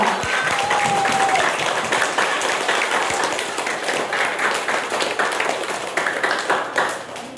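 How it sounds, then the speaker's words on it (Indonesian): Lively applause rings out for Ibu Melda, a teacher, at her farewell during a school report-card day, many hands clapping in a thick, steady roar that swells at first and eases slightly toward the end. "Mari kita berikan tepuk tangan yang paling meriah untuk Ibu Melda."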